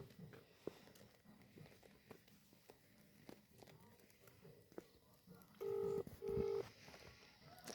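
A telephone is dialed, giving two short, clear keypad tones near the end after quiet rustling and light footstep-like movement.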